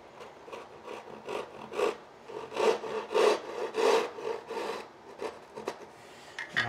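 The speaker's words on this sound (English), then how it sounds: "Now I'm going to use a crosscut saw." A hand crosscut saw working through wood to form a breadboard end, with rhythmic rasping strokes that grow louder and steadier, close by and without talk.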